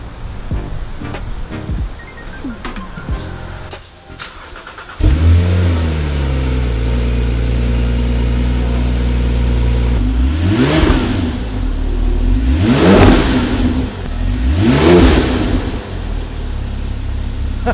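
A Porsche 997.2 Turbo S fitted with a sport muffler starts up, settles into a loud steady idle, then is revved hard three times, each rev rising and falling sharply close by.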